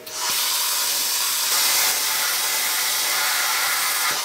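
A plasma cutter slices through scrap metal with a steady, loud, close hissing roar that runs without a break, with a slight surge partway through.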